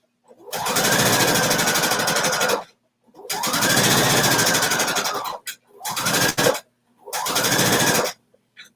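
A sewing machine stitches pockets on a kimono robe in four runs of steady close mechanical whirring, each several seconds long with brief pauses between them, and no talking.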